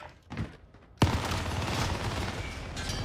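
A sudden loud burst of rapid video game gunfire erupts after a quiet moment and continues as a dense, sustained barrage.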